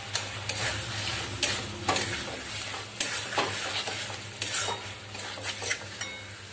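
Egg korma masala sizzles and fries in a pan while being stirred, with a steady crackle broken by repeated scraping strokes of a spoon, close and moderately loud, no voices.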